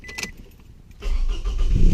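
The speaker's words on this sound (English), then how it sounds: "Go ahead and start my car." A car engine starting after a second of quiet with a brief jingle of keys, then a sudden loud crank and catch into a rising, rumbling idle close by.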